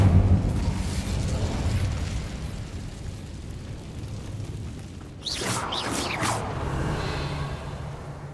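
An Incendio fire spell in Hogwarts Legacy sounds after a low, rumbling game ambience. A sudden fiery whoosh and burst erupts midway, then fades back into a steady rumble.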